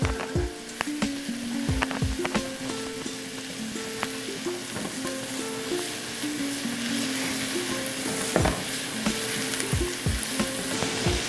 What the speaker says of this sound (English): And we'll be right back when these onions are sauteed.